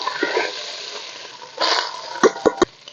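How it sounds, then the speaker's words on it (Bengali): Rice tipped into a pan of hot ghee with whole garam masala, giving a soft frying hiss, a brief louder sizzle burst, then three sharp stirring knocks against the pan, close up. "দিয়ে দিচ্ছি আরও একটু ঘি, দিয়ে দিচ্ছি গোটা গরম মশলা। এবারে দিয়ে দিচ্ছি রাইসগুলো।"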